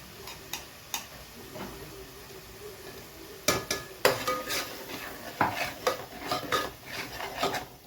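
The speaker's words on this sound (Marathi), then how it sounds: "आता हे छान तेलामध्ये परतून घेऊ. आता हा छान मसाला एकजीव करून घ्या." Masala spices and oil stirred in a pan for a Kolhapuri mutton dish, a spoon scraping and knocking against the metal in irregular taps that quicken in the second half, with a faint sizzle beneath.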